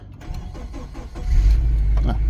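A 2001 automatic car with 134,000 miles, left sitting for a year and a half to two years, cranks briefly and then catches into a loud, steady low idle, heard up close.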